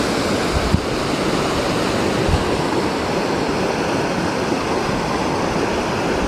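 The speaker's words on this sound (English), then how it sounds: "Creek is right down here." A creek on rural California land flows with a steady, dense rush of water, a continuous broadband wash with no pauses, fairly loud and close, with no voices over it.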